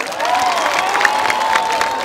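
A worship crowd claps and cheers together, continuous applause ringing through the room with raised voices and a few shouts riding on top.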